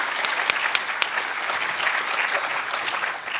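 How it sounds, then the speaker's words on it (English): An audience claps for a science and space exploration panel, brief and steady, with a few sharper individual claps standing out from the crowd. "please give a round of applause to our panelists one more time."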